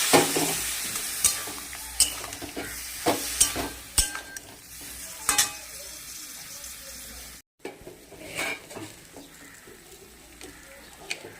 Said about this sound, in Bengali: এবার একটু জল দিয়ে দেবো যাতে সাতলানো হয়